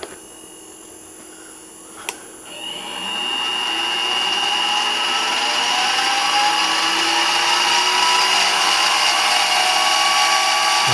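Mini mill spindle after fitting an RPM meter, spinning up from quiet after a sharp click to a steady, loud high-speed whine of about 2200 RPM, heard close with a rising pitch as it accelerates.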